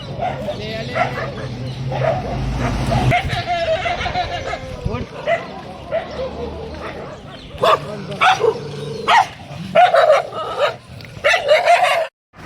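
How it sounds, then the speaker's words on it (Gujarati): A dog barks in repeated sharp bursts close by, mixed with rooster crowing and clucking fowl, with people talking. "મિત્રો અમારા સાથે કૂતરું આવી ગયું છે"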